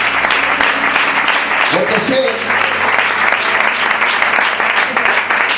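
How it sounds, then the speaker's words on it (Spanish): Church congregation applauding during a Spanish-language sermon, a dense steady clapping that fills the room, with a voice briefly speaking over it. "¿Pueden darle un aplauso al Señor?"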